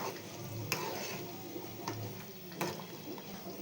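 Fried dried anchovies stirred into a simmering masala gravy in their oil, a constant close sizzle with a few sharp spoon scrapes against the pan, no talking.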